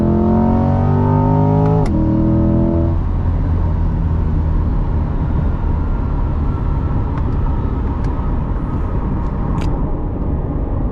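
A Chevrolet C8 Corvette's engine revs up loudly on a downshift, a rising throttle blip that drops sharply, then a steady, close, droning engine note under way for the rest of the stretch.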